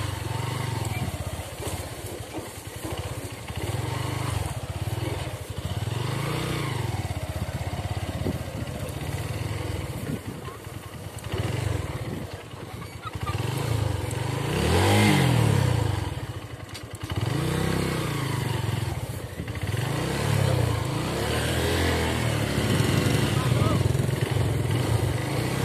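A city bike motorcycle engine drones and revs unevenly over rough riverside embankment ground, with rattles and thumps, while a person talks over it.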